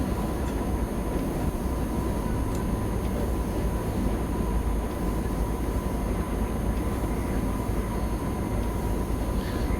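A BR 185 electric freight locomotive runs in Train Simulator Classic, giving a steady, dense rolling rumble and hum that continues unbroken without pauses.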